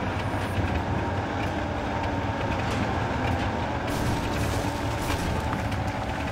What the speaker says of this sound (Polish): W ogóle jakaś lokomotywa, spalinowóz.